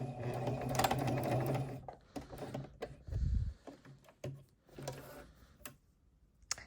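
A sewing machine stitching and back-tacking a T-shirt blanket, rapid mechanical chatter for the first two seconds, then short stop-start bursts of stitching with a low thump and pauses between, close by.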